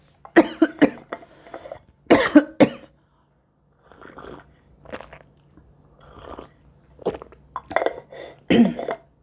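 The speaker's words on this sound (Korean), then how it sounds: "이 몸에서 기침을 하고 있네요" A person coughs in sharp, loud bursts, a cluster near the start and more toward the end, separated by quieter throat sounds and pauses indoors.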